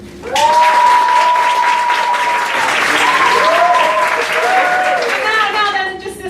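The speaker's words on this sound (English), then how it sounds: "So let's just hear the clapping from this side" Half of a stand-up comedy audience claps on cue, a loud sustained burst of applause with cheering and whooping voices rising over it.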